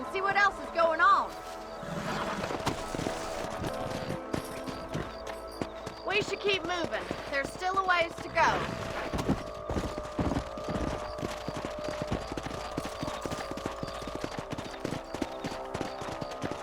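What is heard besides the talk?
horses galloping, video game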